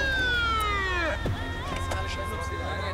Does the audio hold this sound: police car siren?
yes